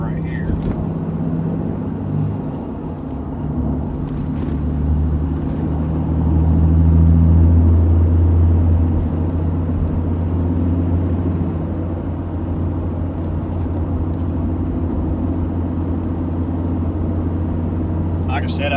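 A 2015 Ram 2500 pickup with a 6.7 Cummins diesel and G56 six-speed manual accelerates toward highway speed, heard from inside the cab as a steady low engine drone and road rumble that swells midway, with a voice speaking over it.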